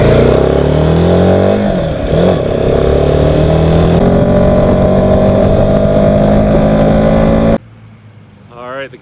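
A motorcycle engine revs loudly and steadily nearby as the bike is ridden off, holding a strong droning whine for several seconds before cutting out abruptly, then faint voices can be heard in the quiet that follows.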